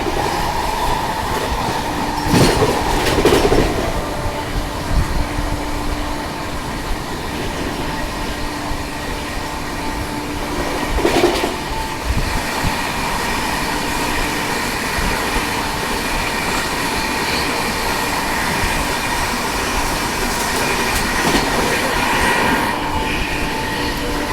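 The Kolkata Duronto Express runs at speed while overtaking on the line, a steady loud rumble of carriages with rhythmic clickety-clack wheel beats and occasional rattling bursts, heard from on board without talk.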